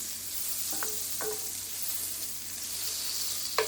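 Butter melts and sizzles in a pan for shrimp risotto, a steady soft frying hiss with a few faint scraping stirs, no talk.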